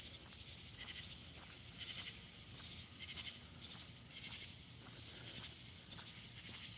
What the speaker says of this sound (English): If y'all don't stop making this darn noise,